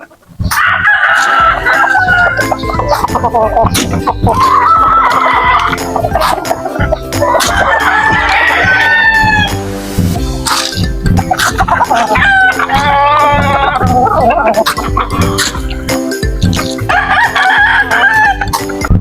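Many Texas gamefowl chickens cluck and roosters crow repeatedly and loudly close by, a constant dense barnyard chorus with no pause.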